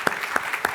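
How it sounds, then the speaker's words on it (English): Brief applause from a symposium audience on luxury business at an evening event: a short, even patter of clapping hands with a few sharper claps standing out. "Let's give him a big round of applause."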